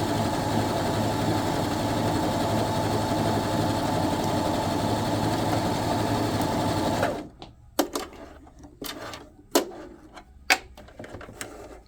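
A sewing machine stitches a stretch stitch in a continuous, fast, even mechanical whir for about seven seconds, then stops, leaving a few sharp clicks and knocks from the machine.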